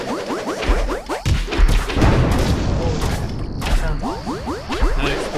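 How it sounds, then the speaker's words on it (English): Booming explosions in the game Cube World burst over chaotic action effects, with rapid whooshing and swishing sweeps layered on top, loud and dense throughout. "Explosion."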